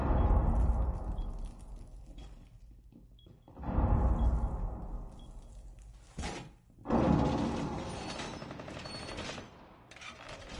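A frag grenade goes off in Rainbow Six Siege, one loud, heavy boom whose low roar lingers and dies away. Further loud gunfire or blasts follow close by, with no talking over them.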